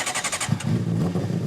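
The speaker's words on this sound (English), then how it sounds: "The engines are being fired up" Superbike motorcycle engines fire up at the Symmons Plains race circuit in Tasmania: a brief rising whine, then a loud, rough, throbbing idle rumble that carries on steadily, with no voices.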